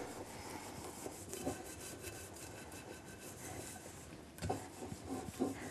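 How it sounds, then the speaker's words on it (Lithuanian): A wet scouring pad scrubs a kitchen surface such as a cooker hood or pan with repeated close rasping strokes, steady and fairly quiet, with a few harder rubs near the end. "Ir šveičiam norimą paviršių."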